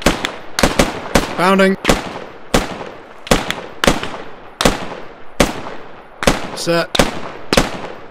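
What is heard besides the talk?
gunfire during squad bounding drill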